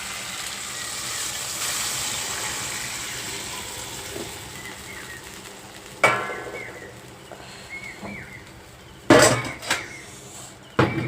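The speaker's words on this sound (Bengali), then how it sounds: "দেখো এই যে জলটা ঢেলে দিলাম" Water is poured, making a steady splashing hiss that gradually fades, followed by a few loud clattering knocks of a vessel or utensils.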